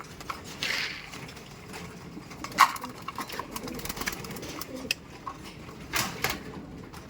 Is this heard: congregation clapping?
no